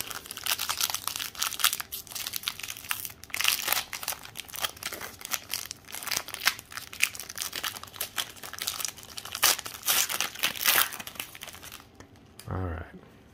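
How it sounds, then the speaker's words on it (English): Foil packs of 2021 Panini Contenders baseball cards being ripped open one after another, a steady run of close, loud crinkling and tearing with brief pauses between packs, ending in a short low thump. "So let's start ripping these open."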